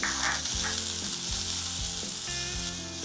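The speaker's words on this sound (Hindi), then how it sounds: "1 टीस्पून चॉप की हरी मिर्ची और 2 टेबलस्पून चॉप किया हुआ अनियन डालेंगे और इसको थोड़ा सा भून लेते हैं" Chopped ginger, green chili and onion fry in a hot pan with a steady loud sizzle, broken by a few clinking, ratchet-like scrapes of a utensil against the pan.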